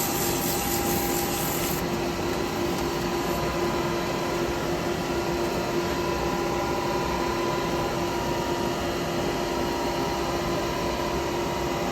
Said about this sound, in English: sand in there. I'll use a hand paper.